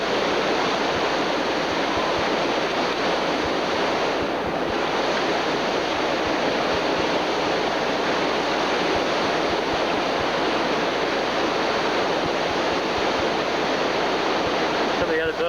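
River rapids roar loudly and continuously during a rafting trip, a dense unbroken rush of whitewater close to the microphone with wind buffeting over it.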